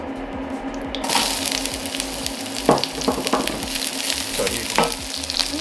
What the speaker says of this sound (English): The oil is getting up to heat, and what we're going to do is put the onions in first.